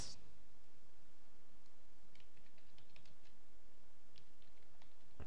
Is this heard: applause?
no